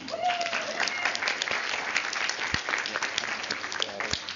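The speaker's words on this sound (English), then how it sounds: "Kathy, would you all give a round of applause?" A crowd applauding steadily, dense clapping filling a room for several seconds, with a few faint voices mixed in.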